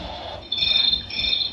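Electronic insect chirping from a toy, high-pitched trilling in two bursts with a short gap, close and fairly loud, no talking.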